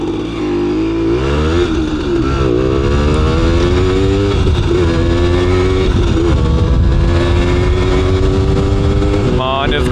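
A small Simson moped engine drones steadily throughout a ride, its pitch rising and falling as it speeds up and eases off, with wind noise.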